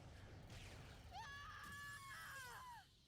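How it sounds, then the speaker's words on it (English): A female character in the Yu-Gi-Oh Duel Links video game lets out a long, shrill scream that rises and then falls away over about two seconds, set over low game background sound. "I don't think I'd ever heard her voice actor scream like that."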